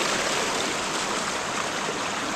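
River stream water flowing outdoors, a steady close rush of broadband water noise without pauses or voices, moderately loud throughout.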